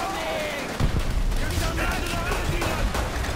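Loud, continuous gunfire fills a Call of Duty: World at War co-op campaign battle, with a sharper burst near the start and a voice speaking over the shooting.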